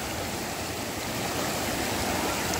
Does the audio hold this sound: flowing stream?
yes